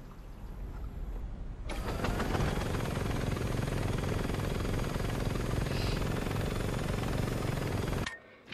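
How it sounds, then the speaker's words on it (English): Helicopter in Saints Row 2 powering up into a loud, steady rotor and engine drone that holds for several seconds, then cuts off abruptly. "Not my favorite helicopter, but we're gonna need it for this particular barnstorm"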